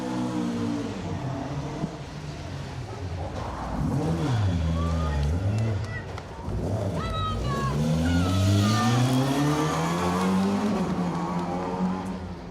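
A Peugeot 208 rally car with a misfiring engine races on an asphalt rally stage, its engine note rising and falling through gear changes while a commentator talks over it.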